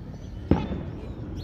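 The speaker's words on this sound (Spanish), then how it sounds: "Por ahí están los cohetes que pues anuncian que estamos en el novenario." A single firework rocket bursts once in the distance during a novena celebration in Sahuayo, a brief sharp bang followed by a fading rumble over quiet background ambience.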